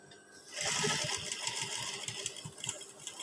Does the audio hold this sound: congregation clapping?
no